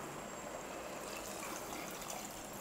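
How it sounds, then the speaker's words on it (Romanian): Faint, steady trickle of water poured into a cooking pot for vegetable borscht, a continuous soft splashing stream with no voices over it. "Apă pui cam 3 sferturi de oală."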